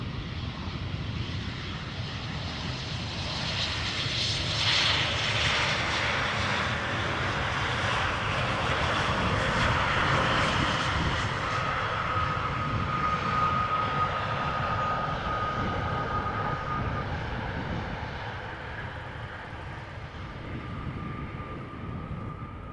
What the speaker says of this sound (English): More 737s arriving on center. This one being from Paris Charles de Gaulle.